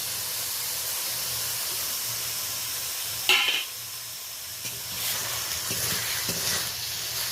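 Tomato, ginger paste, garlic paste and three or four green chillies drop into hot oil tempered with cinnamon and cardamom, setting off a sharp burst of sizzling that settles into a steady, close frying hiss with light stirring and no speech.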